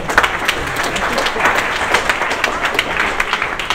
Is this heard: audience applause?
yes